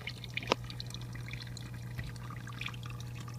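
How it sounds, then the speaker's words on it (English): Small waterfall in a poison dart frog vivarium, trickling faintly and steadily over ledges, with a low hum underneath and a single sharper click near the start. "the water would hit off each one of these ledges, all the way down"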